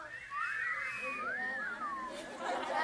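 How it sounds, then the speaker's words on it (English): Whistling from a packed crowd of supporters at a school board meeting, wavering pitched whistles rising and falling for a few seconds over a murmur of chatter. "If you're happy and you know it, give a whistle."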